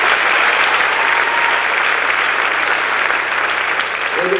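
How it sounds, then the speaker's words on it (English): Loud, dense applause from a concert audience for sophomore soloist Kim Miller at a high school pops and jazz concert, a continuous wash of clapping lasting the whole stretch. "Let's have a big round of applause for Kim Miller"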